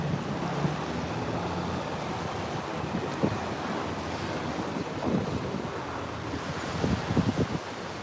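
Ocean surf rolls and breaks continuously while wind buffets the microphone, a dense full roar with a few heavier crashes and gusts swelling toward the end.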